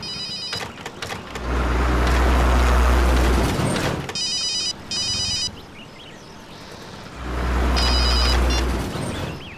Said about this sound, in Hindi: ओह नो, मॉम का ही फोन है।